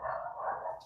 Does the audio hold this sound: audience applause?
no